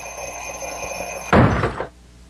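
An alarm clock rings in a radio advertisement with a steady, bright electronic tone. About halfway through, a louder, short clattering thump cuts in, and then the sound drops to near silence.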